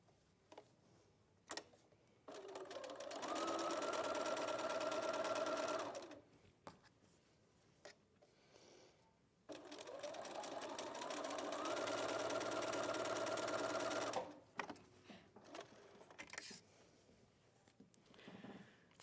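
Sewing machine stitching Tana lawn fabric in two sustained runs of a few seconds each, a fast even whirring hum with rapid ticking needle strokes, separated by quieter pauses with small handling clicks.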